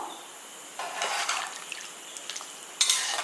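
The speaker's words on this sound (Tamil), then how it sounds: "இப்போ நல்லா ஒரு வாட்டி கலந்து விட்டுருவோம்" Country chicken curry stirred in a pot, a few scraping, stirring bursts with a short clatter near the end, moderately loud over a quiet background.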